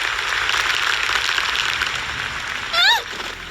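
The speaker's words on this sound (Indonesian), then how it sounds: "Tapi kenapa tepuk tangan ya mereka ya?" Steady applause from an audience fills the whole stretch. Near the end a short tonal whistle or chirp sweeps over the clapping.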